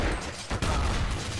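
Rapid gunfire in the video game Counter-Strike: Source bursts loudly and densely, with a brief gap midway before the volley resumes, dense and harsh throughout.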